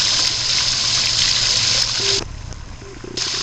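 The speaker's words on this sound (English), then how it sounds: "There's also a little trickle of a water that's coming down on the side there, on the right-hand side of the stone." A small trickle of water runs down beside a garden stone, a steady close splashing flow that softens near the end, with a few faint tonal blips in the background.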